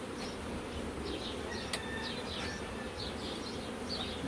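Honeybees buzz steadily around a mature beehive being prepared for transfer to an orchard, a soft, continuous drone with individual bees whining past at close range, no talking.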